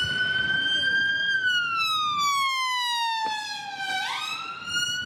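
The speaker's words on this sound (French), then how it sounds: "une ambulance est passée avec les sirènes à fond" Ambulance siren blaring as it passes close by, a loud sweeping wail whose pitch slides downward and then jumps as the vehicle goes past, with faint street background and no talk.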